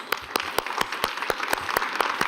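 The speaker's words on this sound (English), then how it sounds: "Give them a big applause." Sparse, evenly spaced claps sound from an audience after a panel discussion on ASEAN and the years ahead, a steady patter of individual hand strikes over a soft hiss of the room.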